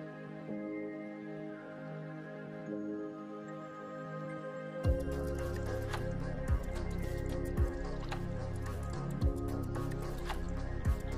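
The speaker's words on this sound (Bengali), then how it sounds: "ভেন্ডিগুলো জলের মধ্যে দিয়ে হাত দিয়ে একটু ঘষে ঘষে ধুয়ে নিয়েছি।" Okra is rubbed and washed by hand in water. After a few seconds of quiet hum come soft, close wet squelches and splashes that repeat roughly every second or so.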